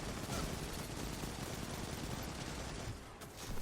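Sustained gunfire in the video game Destiny 2, a dense, continuous rattle of rapid shots that briefly dips near the end before picking up again, loud and close with no talk.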